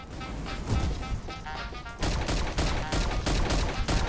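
Rapid bursts of gunfire from Milkman Karlson, loud and dense, with sharp repeated shots crashing over each other throughout and a heavier volley kicking in partway.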